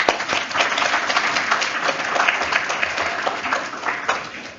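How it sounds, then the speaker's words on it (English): Steady audience applause fills a tech security meetup hosted at Amazon's London offices, a dense wash of many hands clapping at moderate loudness that holds for several seconds and then tapers slightly. "So let's give a big round of applause to Amazon for hosting us tonight."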